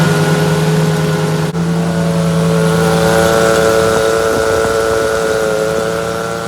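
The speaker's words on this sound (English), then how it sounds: "there was a weird noise coming from the power steering pump as soon as we run the engine" A car's power steering pump, low on fluid, whines with steady tonal harmonics over the running engine, loud and continuous, with a brief dip in pitch early on before the drone settles.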